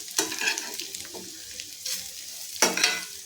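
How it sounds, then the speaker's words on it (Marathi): Alu vadi slices shallow-fry crisp in a little oil, giving a soft close sizzle broken by a few brief stirring or flipping scrapes, with no talking. "दोन्ही बाजूनी पलटी करून आपल्याला छान असे क्रिस्पी फ्राय करून घ्यायचे आहेत."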